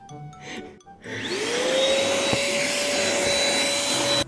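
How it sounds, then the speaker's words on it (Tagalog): A vacuum cleaner is switched on and spools up to a loud, steady whine with an airy roar as it sucks water from a soaking wet sofa, running continuously after a brief quiet start. "pinagpatuloy ko nga lang pagbabacuum nga dito nga sa sopa"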